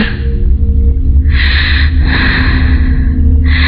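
Heavy, breathy inhalations and exhalations used as a ghost-story sound effect, coming in rough bursts that swell louder as if approaching from behind.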